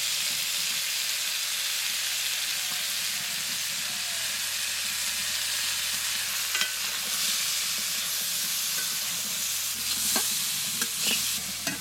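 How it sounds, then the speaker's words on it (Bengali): Masoor lentils frying with turmeric and salt in oil, a dense continuous sizzle with repeated scraping stirs and clinks of a spoon against the pan, close and loud, no talking. "এবারে মসুরি দিয়ে দেবো।"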